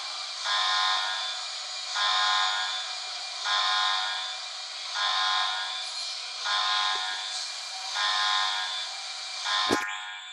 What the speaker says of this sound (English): Now the alarm goes off again.